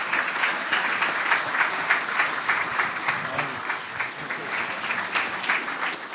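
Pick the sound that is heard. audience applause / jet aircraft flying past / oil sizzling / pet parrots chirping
audience applause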